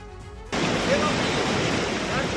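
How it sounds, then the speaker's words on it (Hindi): The swollen Godavari in Nashik rushes in flood after heavy rain, a dense, continuous roar of moving water. A brief quieter lead-in gives way abruptly to the steady, loud torrent. "ये तस्वीरें नासिक की हैं जहां कई फीट तक पानी बह रहा है"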